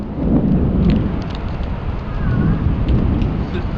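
A heavy thunderstorm with pouring rain, a loud, dense wash of rain and low rumbling thunder that swells and recedes, close by and continuous, with faint voices underneath.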